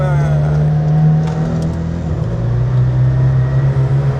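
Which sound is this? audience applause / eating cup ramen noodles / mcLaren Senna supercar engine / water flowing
mcLaren Senna supercar engine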